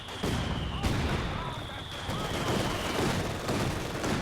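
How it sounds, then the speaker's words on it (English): Mortar fire in Company of Heroes 2, several sharp thumping blasts at irregular intervals amid ongoing battle noise, moderately loud. "Double mortar's going to work on that mortar pit"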